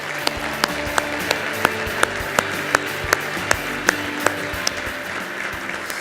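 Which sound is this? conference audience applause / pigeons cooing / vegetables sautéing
conference audience applause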